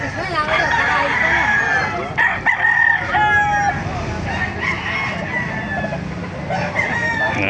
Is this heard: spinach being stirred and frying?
no